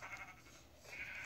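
Sheep bleating in the Minecraft video game, a few harmonic game bleats close up over a steady background of game sound, with no talking.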